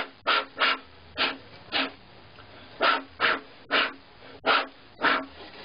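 Air blown across the sound holes of a violin to check tuning gives a series of about ten short, breathy puffs in an uneven rhythm, close and fairly soft, with no talking.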